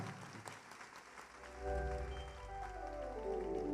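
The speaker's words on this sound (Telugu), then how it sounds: "గట్టిగా చప్పట్లతో మీరు అభినందనలు చెప్పాలి" Crowd applause at a Christmas gathering fills the space, a broad clatter of clapping that swells louder midway and carries on steadily, with a sustained musical tone rising underneath.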